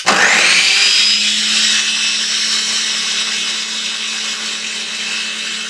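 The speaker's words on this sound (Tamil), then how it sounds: "இப்போ ஃபுட் ப்ராசஸரில் வந்து நான் முட்டை ஊற்றிருக்கேன்." An electric food processor whirs loudly and steadily as it beats eggs, starting with a sharp rise and then holding a constant high-pitched motor drone.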